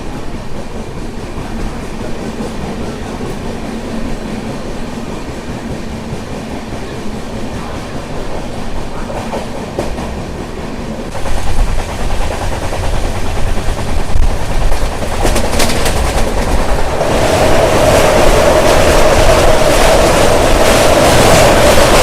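An AC express train runs through Eluru station without stopping, heard from inside a coach: a steady rumble that grows louder and denser halfway through, with rapid rail clatter and a brief high squeal near the end.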